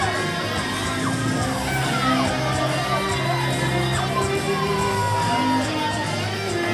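Wrestling crowd at a Dog Collar match roaring and yelling for Matt Quay, a dense, loud wall of cheers and shouts that stays continuous throughout, with scattered individual voices standing out.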